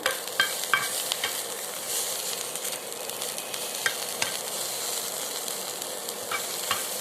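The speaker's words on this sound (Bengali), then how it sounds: "তেল বেশি দিবেন না হালকা তেলে ভাজবেন" Chilies fry in just a little oil, a loud continuous sizzle close by, broken by sharp scrapes and taps of stirring, with no one talking.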